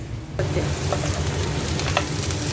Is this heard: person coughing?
no